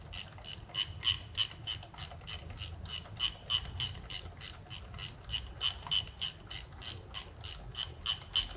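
A hand ratchet tightens the last bolt joining a car's bellhousing to the transmission. Crisp, evenly paced clicks repeat about three times a second, close and alone.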